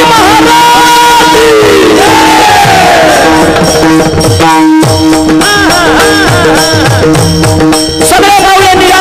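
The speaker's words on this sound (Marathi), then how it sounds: "एक साथ सर्वांनी टाळी बोला छत्रपती शिवाजी महाराज" A large crowd at a kirtan gathering roars a loud, unified chant in honor of Chhatrapati Shivaji Maharaj, many voices shouting together in rising bursts with a brief dip midway.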